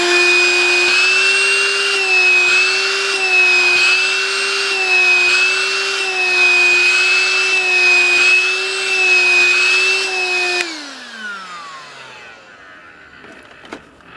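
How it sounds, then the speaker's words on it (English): A vacuum cleaner running steadily as it sucks dust off sandpaper used for sanding 3D printed parts, a loud whining motor drone that winds down and fades out near the end. "I just vacuum off the sandpaper after doing both ends of each piece"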